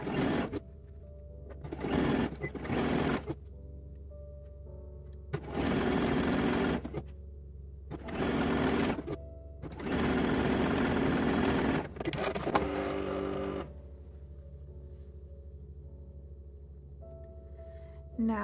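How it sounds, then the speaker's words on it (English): Sewing a bra's back seam, a sewing machine runs in several short close bursts separated by quiet pauses, each burst a rapid steady whir and clatter, ending with a longer stop. "we're going to stitch this back seam with a 3/8 inch seam allowance"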